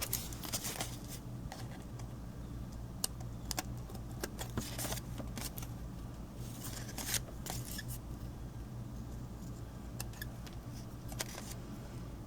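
Scissors snip through a paper craft piece for a Halloween tombstone treat gift box, a series of quiet irregular cuts and rustles at close range with no talk.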